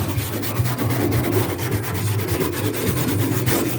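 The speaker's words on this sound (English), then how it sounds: "give it a good hand scrubbing here with my green Scotch-Brite pad" A green Scotch-Brite pad is scrubbed by hand over parts from a 1966 Toyota Stout 1900 being rebuilt, giving a continuous, close, rhythmic abrasive rubbing with quick repeated strokes.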